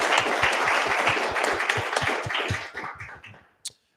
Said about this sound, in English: give them a big round of applause for attending